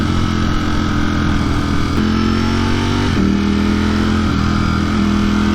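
A 2020 Ducati Streetfighter V4 motorcycle engine roars loud and close while riding, its pitch stepping up through gear changes in a continuous, strong drone.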